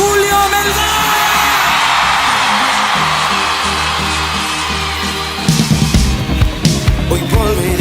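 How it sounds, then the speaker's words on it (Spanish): A congregation at a Sunday church service cheers and shouts to welcome a guest, a continuous loud roar of voices over music that stays steady, then turns choppier and more percussive toward the end. "recibimos con un fuerte grito"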